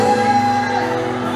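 A church congregation shouts at their neighbours in a brief, loud burst of many overlapping voices, with a sustained musical drone beneath.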